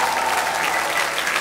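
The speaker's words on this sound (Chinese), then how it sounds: "朋友们掌声支持我一下好吗" Studio audience at a Chinese dating show breaking into dense, loud, sustained applause for a male contestant, filling the short moment with continuous clapping.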